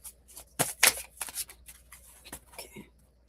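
Oracle cards being shuffled by hand, with quick riffling bursts and soft flicks, close and fairly quiet, and no talking.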